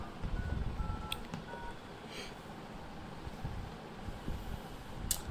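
A smartphone used with a playing-card cheating device gives short electronic keypad tones as a code is entered, a few brief faint beeps scattered over a steady background hiss.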